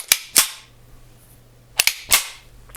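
Four sharp metallic clacks in two pairs, each pull and snap-back of a steel SIG P210 pistol slide ringing briefly, close up against a quiet room hum.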